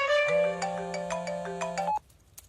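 A mobile phone ringtone plays a bright, looping melodic tune with a steady low tone beneath, fairly loud and close, cutting off abruptly near the end with faint room noise after.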